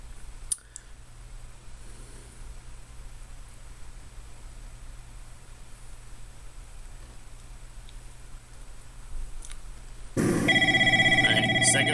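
A video game telephone in a FNAF night shift starts ringing loudly and abruptly near the end, a bright repeating electronic bell cutting in after a long stretch of quiet background hiss and occasional clicks.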